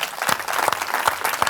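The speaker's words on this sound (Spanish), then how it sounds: "hay que acabar con un aplauso para esta estrella" A short burst of applause from a studio audience at the end of a music-industry talk show honoring a rock star, with dense overlapping claps and no voices.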